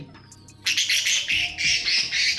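Baby male budgerigar chirping and calling, starting with faint thin peeps and then bursting into loud, rapid, harsh chirps and squawks held close, with no one talking.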